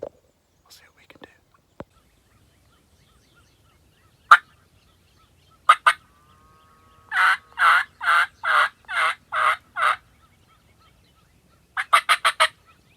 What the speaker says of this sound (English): They're already gobbling like crazy.